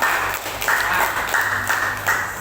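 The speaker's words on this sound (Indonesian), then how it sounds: "Tepuk tangan untuk semuanya." Schoolchildren in a classroom break into loud, dense applause, many hands clapping together in a steady burst close by.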